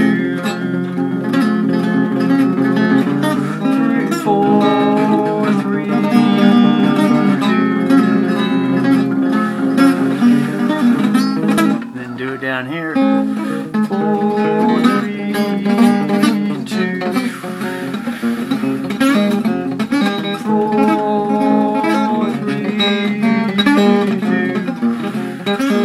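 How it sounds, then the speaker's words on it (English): Electric guitar playing fast Yngwie-style arpeggio runs in a neo-classical shred style, a dense, continuous stream of notes that stays loud and steady throughout with no talking. "if we want to throw down on some Yngwie arpeggios with those positions,"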